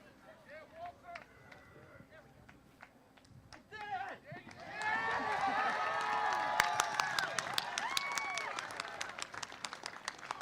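Audience applause and cheering at a 2025 commencement ceremony, starting as scattered claps and rising into a sustained, dense wave of clapping and cheers that fills the room.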